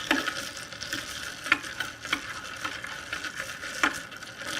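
A bar spoon stirs a Mexican mule of ginger beer over ice, making a run of rhythmic clinks and rattles against the cup, close and fairly crisp over a soft fizzy hiss.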